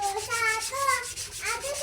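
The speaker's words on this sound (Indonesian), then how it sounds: "ratakan bilah dengan menggunakan hamplas 100 dengan cara menggosok bilah secara" A knife blade rubbed over with 100-grit sandpaper, giving a steady, fairly close scratchy scraping with repeated back-and-forth strokes and no talk.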